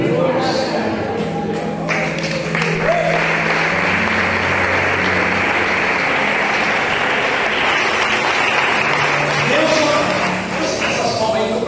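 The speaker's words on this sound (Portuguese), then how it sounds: "Essas palmas aí foram para mim." Church audience applauds in a sustained wash of clapping mixed with cheering voices and music underneath, loud and close throughout.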